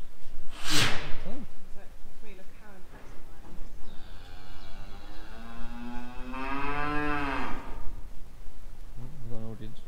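A cow in a farm field gives a long, low moo in the middle, a second shorter one following, over outdoor background noise with a brief sharp snap early on.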